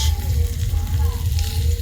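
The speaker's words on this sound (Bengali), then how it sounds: "ভাজা হয়ে যাবে আলুর সঙ্গে" Potatoes frying in a pan give a dense, continuous close sizzle over a low rumbling hum from the stove, with faint stirring; nobody speaks.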